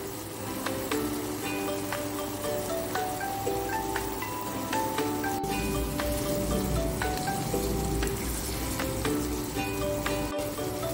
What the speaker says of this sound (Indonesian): Saya geleprokin sebentar ya, biar bumbunya meresap ke kentang sama ke tempe.